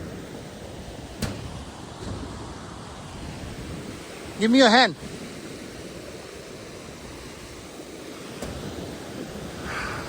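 A fast-flowing mountain river near Katagla rushes in a steady, broad roar throughout, with a person speaking briefly midway.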